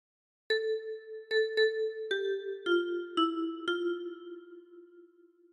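Ten-key kalimba plucked through a phrase of Hark the Herald Angels Sing, about eight bright metallic tine notes in a steady melodic rhythm, close and clear, the last note ringing out and fading.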